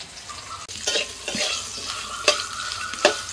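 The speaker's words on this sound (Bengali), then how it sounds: "ওই তেলের মধ্যে আমি ডাঁটাগুলোকে একটু নাড়াচাড়া করে নেব।" Drumstick stems (sajne danta) stirred in hot oil in a pan, a steady close sizzle broken by scraping strokes and a few sharp clinks of the utensil against the pan.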